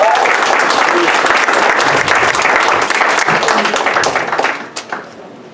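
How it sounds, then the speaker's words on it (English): Loud, dense applause from an audience at an anniversary service ceremony, sustained for several seconds and then tapering off into a few last claps. "let's clap it up"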